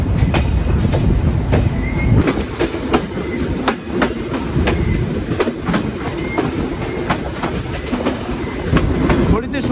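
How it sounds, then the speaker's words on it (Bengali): Shimanto Express passenger train pulling into Jessore Junction station in Jessore district late at night, with loud steady rumble and repeated clickety-clack of wheels over rail joints throughout. "আমরা প্রবেশ করছি যশোর জেলার যশোর জংশন রেলওয়ে স্টেশনে"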